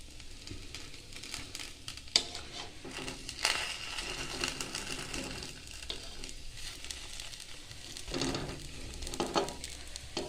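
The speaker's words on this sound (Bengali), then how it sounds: "এবার একটু ভাজা ভাজা হতেই নামিয়ে ফেলতে হবে" Patishapta pitha, rolled rice-flour crepes filled with sweet sandesh, fry in a wok with a steady, close sizzle, broken by a few scraping stirs and clinks.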